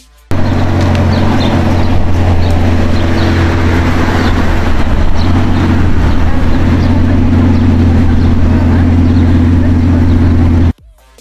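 A Bugatti Centodieci (110) hypercar engine drones loud and steady with a deep, even tone that holds for about ten seconds, then cuts off abruptly; no one speaks.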